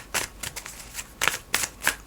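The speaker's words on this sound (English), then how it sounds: "Overhand shuffle, okay." Tarot cards given an overhand shuffle, five or six soft papery riffling bursts in quick succession, close and fairly quiet.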